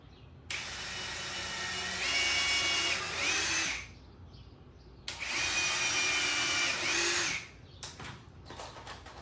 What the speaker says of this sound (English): we're going to drill our 2 pilot holes